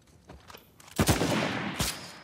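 Gunfire in an Uncharted 4 team deathmatch crackles fairly faintly, with a couple of soft distant shots followed by a louder burst and another sharp shot.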